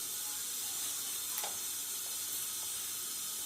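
Water for yakhni pulao comes to a boil in a pot, giving a steady, dense hiss with faint bubbling pops throughout.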